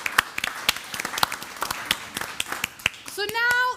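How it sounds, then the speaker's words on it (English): Audience at a comedy show clapping in a scattered, thinning round of sharp individual claps, followed at the end by a voice speaking over them. "Give yourselves a round of applause."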